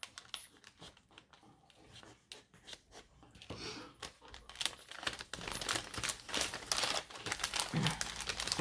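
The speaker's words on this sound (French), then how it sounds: "Là, je coupe les scotch." Adhesive tape on a parcel is cut open, producing sharp crinkling, snipping and rustling that starts sparse and grows louder and busier toward the end.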